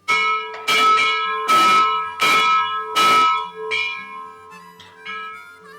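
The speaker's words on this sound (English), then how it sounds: "This is a bell off of a steam locomotive." A bell from a steam locomotive, displayed at a regional railroad museum, rings loud and close in about six clanging strokes, each leaving a long shimmering metallic ring.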